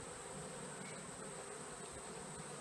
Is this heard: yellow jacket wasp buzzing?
yes